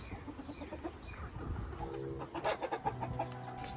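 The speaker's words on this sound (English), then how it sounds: "Look at all them chickens." Chickens cluck and chatter in a short burst of overlapping calls from a flock, fairly close, busier toward the end.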